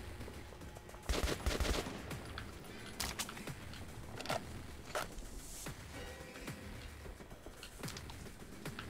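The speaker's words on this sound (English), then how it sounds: "Who the hell's shooting at me from down there?" Enemy gunfire in the video game Metro 2033, with scattered sharp shots and short bursts echoing at a moderate distance over a low, busy background, with no talking.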